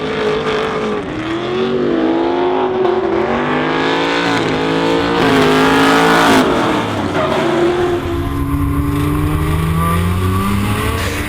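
Drift cars battle in a top-8 run at the D1NZ Taupo Grand Final, the Tectaloy Nissan S14 among them, with engines revving hard and rising and falling in loud, continuous overlapping pitch sweeps, close by, and tyres squealing under the roar.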